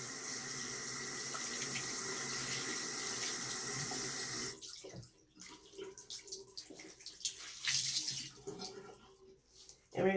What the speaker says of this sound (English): So I let the water get nice and hot on my towel.